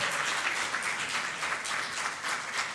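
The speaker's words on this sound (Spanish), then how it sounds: "¿Cuántas le dan una ofrenda de palmas a su Rey y su Señor y Salvador?" A church congregation claps together in a steady, moderately distant round of applause, even and continuous with a few swells, no voices rising above it.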